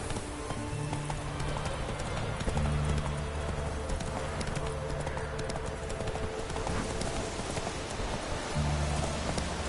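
Horse hooves clip-clop steadily in Witcher 3, an even, close trotting rhythm over a constant patter of rain, with no voices.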